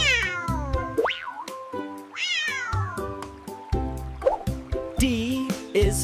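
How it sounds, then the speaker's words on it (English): A cartoon-style cat meows in a kids' alphabet animal song, with repeated rising and falling meow calls layered over bouncy background music. "C is for cat."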